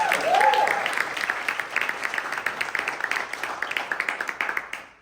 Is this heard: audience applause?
yes